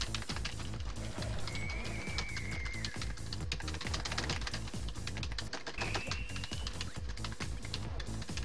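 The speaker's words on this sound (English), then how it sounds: "I'm hitting the buttons too fast, like my keyboard's moving away" Fast, hard typing on a computer keyboard during a video game run, a dense continuous clatter of key presses mixed under game music and effects.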